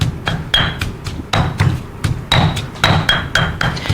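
A pestle pounds marinade ingredients in a mortar in a steady rhythm of sharp, close thuds, roughly two or three strikes per second, each with a faint ringing clack.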